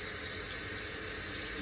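Tap water runs steadily over a prosthetic eye shell held under a faucet, a constant broadband hiss and splash, close and even throughout with no talking.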